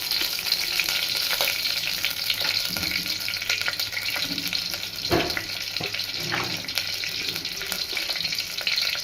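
Garlic and dried red chillies sizzle in hot oil for a tempering, a dense continuous crackling hiss with a few stirring clinks, close and alone without speech.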